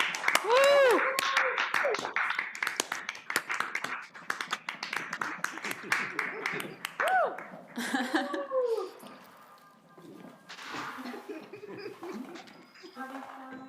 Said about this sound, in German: Einen grossen Applaus also für die nächste Bank Wanderratten.